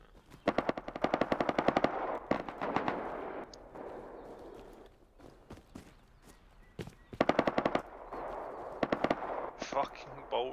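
Automatic AK rifle fire in the survival game Rust, several rapid full-auto bursts with sharp repeated cracks separated by pauses and quieter ambient stretches, loud and close, with no speech over it.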